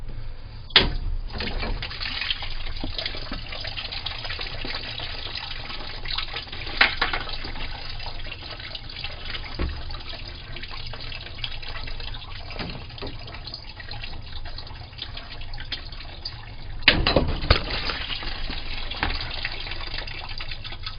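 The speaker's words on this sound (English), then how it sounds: "we can expect water to fly" Water sprays and gushes from a freshly cut copper supply pipe during a plumbing job with PEX lines, a steady close hiss running throughout with a few louder surges.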